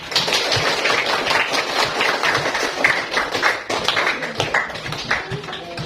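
Applause from a room of teenage students at a school nutrition awareness session, a dense, continuous patter of many hands clapping at close range for several seconds.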